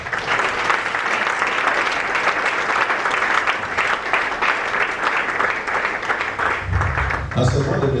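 A church congregation at a Congolese revival church assembly applauds, sustained dense clapping from a large crowd filling the hall, loud and steady, with voices mixed in near the end.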